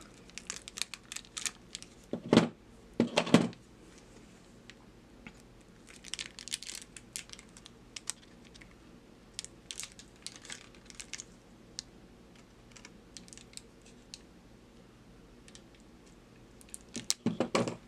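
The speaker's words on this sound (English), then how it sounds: "So I'm going to cut off the lump and maybe it'll work better." Small snips and crinkly cuts as a lump is trimmed off doll material during a doll customization, scattered soft clicks with a few louder bursts near the start and end, close and quiet with no talk.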